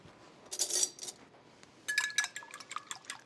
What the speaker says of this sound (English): whisk it a little bit